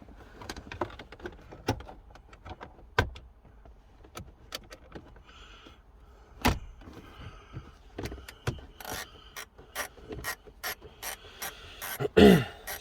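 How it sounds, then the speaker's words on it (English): Screws are being removed from the shifter console of a Mazda 6, giving faint, irregular clicks and sharp ratcheting ticks, scattered sparsely at first and then coming faster, close and quiet with no talk. "So you take this bottom screw out."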